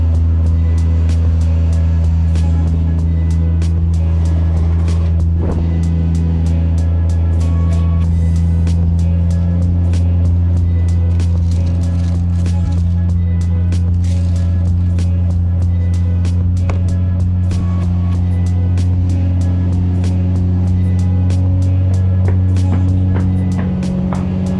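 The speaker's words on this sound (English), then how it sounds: "So I'm just gonna let it warm up for a second." A Toyota Supra engine idles while warming up, a steady, close, loud low rumble holding level throughout with faint ticking on top.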